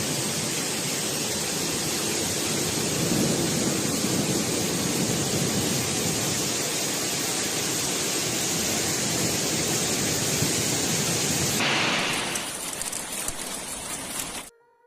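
A powerful hailstorm in China pours down as a dense, continuous roar of hail and rain striking surfaces, loud and steady before cutting off near the end.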